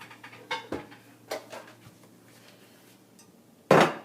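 A lasagna pan is pulled out and handled in a kitchen: a few light metallic clanks and taps, then a sharper louder knock near the end, close and otherwise quiet.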